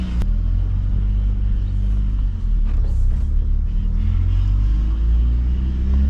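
Engine of a Technica sports car heard from inside while driving, a loud steady low rumble with road noise and no clear revving changes.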